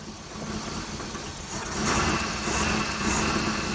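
Pontiac Phoenix engine running after sitting unused for over twenty years, a rough steady idle that swells louder partway through, close and continuous with no voices.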